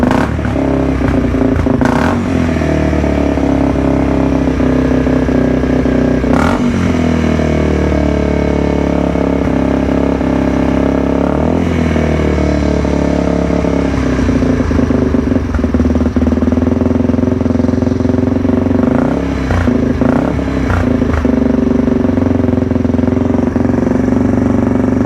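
A Yamaha TTR225 dirt bike with a leaky carburetor runs loud and close, engine droning steadily with a rough, bogging tone and occasional surges and clattery dips as the throttle is opened wide.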